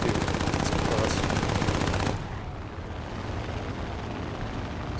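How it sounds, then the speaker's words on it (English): Rapid, loud machine gun fire from an A5M4 plane in War Thunder, a dense sustained burst lasting about two seconds before dropping to a steadier engine drone. "Good fire rate on these guns too."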